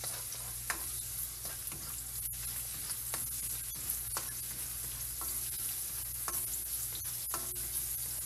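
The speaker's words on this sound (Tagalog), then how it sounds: "Pag mainit yung ating oil, gigisa lang natin dito ngayon yung ating bawang." Garlic sautéing in hot oil for squid adobo, a steady close sizzle with scattered stirring clicks and scrapes of the spoon in the pan, no voices.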